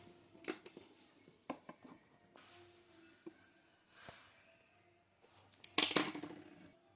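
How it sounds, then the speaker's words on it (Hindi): Scissors snip crochet thread in a few faint, close, crisp clicks spread over a quiet background, with a slightly busier cluster of cuts near the end. "यहाँ पर अब हम एक चेन लेके धागे को काट देंगे"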